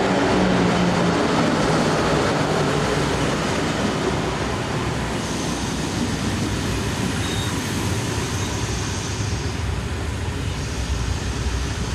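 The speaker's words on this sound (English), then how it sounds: "The train is headed by number 9336, a class found regularly working on the Toulouse to Marseille main line." A French railway train headed by locomotive number 9336, of a class used on the Toulouse to Marseille main line, pulls in with a steady, loud rumble of engine and wheels that fills the scene from start to finish, with no voices.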